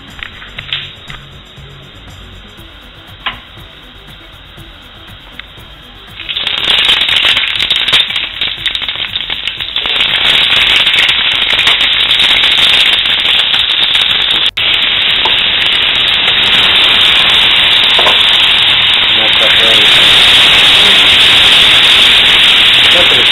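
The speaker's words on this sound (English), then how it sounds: "First we're going to fry the shrimp and the squid." Shrimp and squid frying in a hot pan for fideuà, a quiet start that jumps at about six seconds into a loud, steady broadband sizzle and hiss with scattered pops, continuing to the end.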